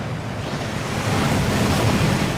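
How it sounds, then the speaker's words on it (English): A waterfall inside the Gringotts vaults in Hogwarts Legacy roars as a loud, steady rushing wash of water that swells slightly, with no voices. "That waterfall washes away all enchantments."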